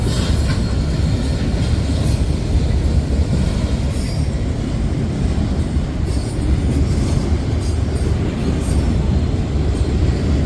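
An Amtrak train passes in a Roblox game, a dense continuous rumble with rolling wheel noise and faint squeals throughout, loud and close.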